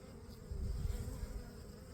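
Honeybees buzz around a hive entrance on the Mediterranean coast in mid-morning, returning with pollen; a low, steady hum of many wings swells slightly midway and holds, close by, with no voices.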